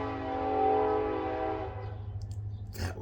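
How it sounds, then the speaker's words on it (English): A train-horn-like whistle sounds as one long, steady tonal blast that fades away, followed by low rumble and a few faint clicks. "That was the night whistle of the Knights of the Old Republic."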